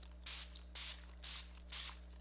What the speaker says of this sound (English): rose water spray.